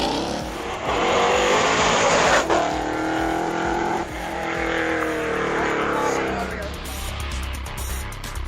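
A Mercedes-AMG GT 63 SE with 600 kilowatts roars up a hillclimb course, its engine rising through loud, sweeping gear changes at close range, with a commentator talking over it.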